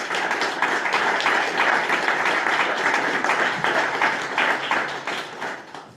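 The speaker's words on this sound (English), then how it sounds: "Give a big round of applause to Brad Mahoney." Audience applause in a lecture room, dense and steady clapping from a crowd, loud and sustained throughout, easing slightly at the end.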